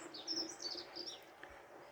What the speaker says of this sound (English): if we really listen carefully, we might be able to hear the birds